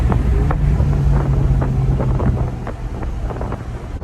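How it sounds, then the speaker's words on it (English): A 2.9L Alfa Romeo Giulia Quadrifoglio with a tune pulls hard toward its rev limiter, the engine's roar close and loud but heavily buffeted by wind noise throughout. "Rev limiter is pretty cool on this thing because the rev limiter kicked in and basically it held it"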